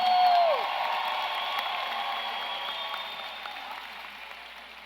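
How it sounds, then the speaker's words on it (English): Graduation audience at a 2024 high school commencement breaks into broad applause and cheering, a steady wash of clapping with scattered whoops that fades gradually over several seconds. "Let's give them a round of applause."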